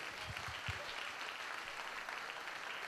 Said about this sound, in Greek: πρέπει να πούμε ένα πολύ μεγάλο μπράβο και ένα δυνατό χειροκρότημα